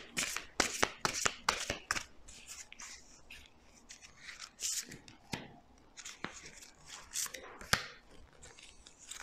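Tarot cards shuffled and laid out on a table, giving quick papery riffles and crisp slaps, then softer sliding and scattered taps as cards are placed down, close and fairly quiet with no talking.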